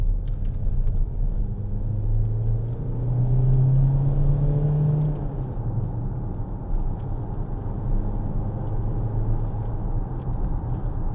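A 2014 Vauxhall Insignia 2.0 CDTi SRi diesel accelerates with a low, steady engine rumble and a rising tone that swells around the middle, heard from inside the cabin with road noise and no talking.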